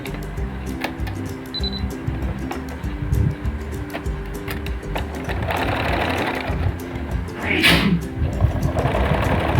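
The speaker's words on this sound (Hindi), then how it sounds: "ये डबल सिलाई लगा ली हूँ मैं फोल्ड करके।" An electric sewing machine runs steadily while double-stitching a folded edge on a kameez kurti, its dense rattling whir going on throughout, close and loud, with a few soft clicks and handling noises around it.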